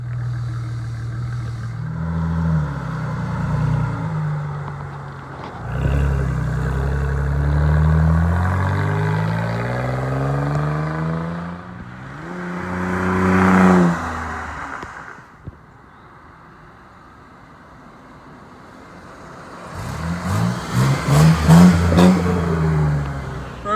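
A 2002 Ford Mustang with newly installed rear shocks and exhaust on a test drive, its engine revving and accelerating through several gear pulls, loud and close, with a throaty rumble that swells, drops back and surges again.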